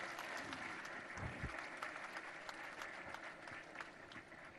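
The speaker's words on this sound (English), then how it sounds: "can I request you to please once again properly put your hands together for" Summit audience clapping for the President, a dense, even roar of applause that runs throughout at a steady level, with a couple of low thumps near the middle.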